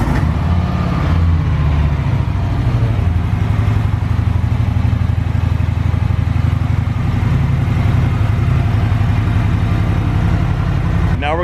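A Harley-Davidson motorcycle engine idles loud and close, its steady low rumble running unbroken from start to end with no talking.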